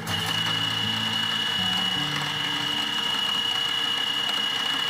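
A repaired drill machine is test-run at Nandira Colliery, a coal mine in the Talcher area. It gives a continuous, close mechanical whine and hum with slight shifts in pitch and no speech.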